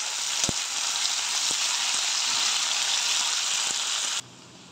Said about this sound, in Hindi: जब तक मेरा सहजन फ्राई हो रहा है